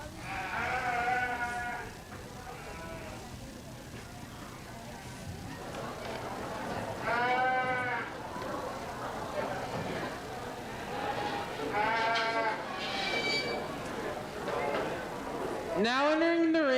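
Sheep bleat repeatedly in a junior county fair show arena, some calls near and some farther off. They come in short bursts under a constant announcer's voice and general crowd noise.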